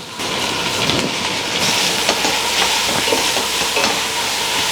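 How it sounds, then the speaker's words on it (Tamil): Steady sizzling of onions and mint sautéing in a pan, with a continuous hiss and occasional soft scraping stirs, close and fairly loud with no talking. "இந்த வெங்காயமும் புதினாவும் நல்லா வதங்கட்டும்."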